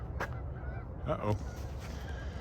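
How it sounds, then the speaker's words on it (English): Geese honking near a lake in Regina before dawn on a December morning, a couple of short nasal calls rising over steady outdoor rumble, with a person's voice faintly present. "It's the geese again."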